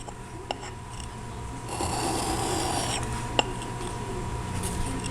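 A lathe toolbit is sharpened with a couple of firm swipes, making a soft, brief rasping stroke in the middle of a quiet workshop, with a few faint ticks around it.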